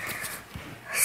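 A short nasal sniffle with breathy snorts and wheezy air, close and fairly loud, rising again at the end.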